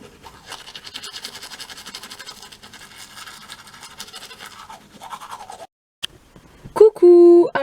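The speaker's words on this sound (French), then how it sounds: "je vais mettre ça sur ma brosse à dents et je vais tester" Rapid scratchy scrubbing of a toothbrush against teeth, close and continuous, breaking off near the end before a short loud tone.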